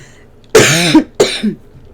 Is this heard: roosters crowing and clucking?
no